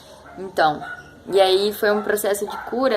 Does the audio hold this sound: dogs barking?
yes